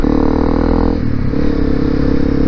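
Honda CRF250L Rally motorcycle engine fitted with an FMF exhaust, a loud steady idle with a rumbling low tone that drops slightly in pitch partway through, close and without talk.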